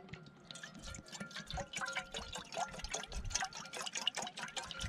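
Half a liter of water is measured into a small Trangia camping-stove pot outdoors: a steady run of splashing and trickling drips that build into a continuous pour, close to the mic with no speech.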